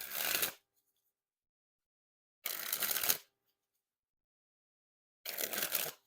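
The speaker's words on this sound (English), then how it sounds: "time to test the handling. And first we'll start with the springs." Seekers playing cards by Art of Play being sprung from hand to hand, three separate crisp fluttering bursts of cards, each about half a second long, close and clear with silence between them.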